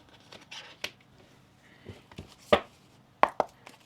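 Tarot cards being shuffled by hand make soft riffling rustles and several sharp snapping slaps, close and quiet, in irregular bursts with no talking.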